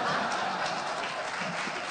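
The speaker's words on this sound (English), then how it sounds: "It's so nice to hear like one person clapping." Light applause rises from a lecture audience at a university economics debate, a soft, continuous patter of clapping heard at a moderate distance, with no voices over it.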